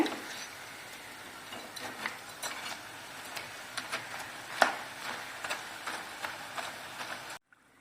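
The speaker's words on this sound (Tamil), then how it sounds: "இந்த எண்ணெய் ஓஸ் அடங்கணுன்னு திருப்பி விட்டுடலாங்க" Hot oil hisses and fizzes steadily while butter murukku fries, with scattered clinks and light scraping from cookware over the frying noise before it cuts off abruptly.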